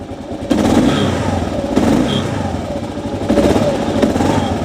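Motorcycle engine running with throttle held, a loud close low rumble with periodic surges of revving and some clatter, no talk over it.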